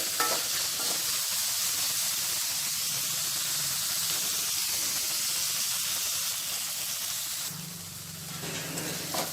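Tomato pieces fry lightly in a pan with a steady close hissing sizzle, interrupted by stirring, the sizzle quietening near the end.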